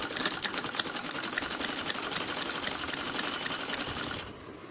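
Sewing machine running steadily while stitching a blouse, a fast continuous mechanical whirr with rapid needle chatter, close and loud, stopping abruptly near the end.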